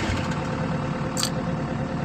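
A diesel engine runs with a loud, steady low rumble close by, filling the short stretch with continuous mechanical drone and no talk.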